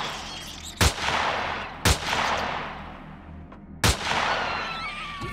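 Rifle sniping shots in the game Empyrion Galactic Survival, three loud sharp cracks spaced a second or two apart, each followed by a long fading echo.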